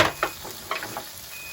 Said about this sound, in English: No wonder I was hearing all that sizzling